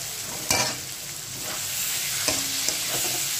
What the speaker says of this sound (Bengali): আর এই সময় আমি আলুটা অ্যাড করে দেব, আর দিয়ে দেব সোয়াবিনটা।